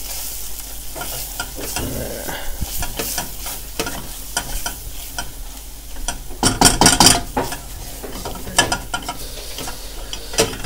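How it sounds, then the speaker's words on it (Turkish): Cornmeal is stirred and toasted in a frying pan while cooking a sea bass dish, with a spoon scraping and clicking against the pan in irregular strokes over a soft, constant sizzle, close and fairly loud. "Burada mısır ununu bir güzel kavurmamız gerekiyor."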